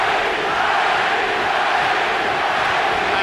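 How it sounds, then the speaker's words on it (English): Dense crowd noise fills an arena at the Erik Morales vs Manny Pacquiao rematch boxing bout, a steady loud roar of fans chanting and cheering for Pacquiao with no break. "Pacquiao crowd chanting, Manny, Manny, Manny."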